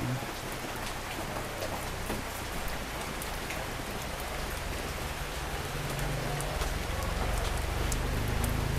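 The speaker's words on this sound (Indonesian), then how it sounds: "Hujan, berhenti dulu di sana ya." Steady, dense rain pours down outdoors, a continuous close hiss of drops hitting surfaces that holds even throughout with no voices.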